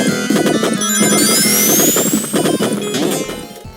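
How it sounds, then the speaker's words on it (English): A grating, continuous mechanical whirring from a lever sliding back in Sandopolis Zone of a Sonic game, loud and busy over the game's music and effects for a few seconds. "as long as the lever isn't done pushing itself back, it makes this extremely annoying sound"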